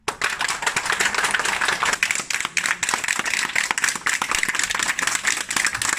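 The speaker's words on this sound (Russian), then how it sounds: "все стояли, аплодировали" A courtroom crowd in Belarus applauds a death sentence verdict, a dense, steady clatter of many hands clapping close by for the whole stretch, with no speech.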